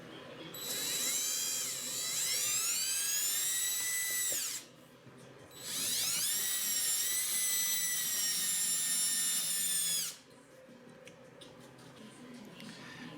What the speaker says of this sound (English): Let's put a clamp on it and drill some holes.